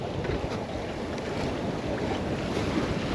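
Strong wind of about 22 knots rushes over a Jouet 10.40 sailboat at sea, a loud, steady roar of gusts and water noise with no voices.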